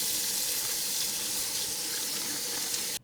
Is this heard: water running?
yes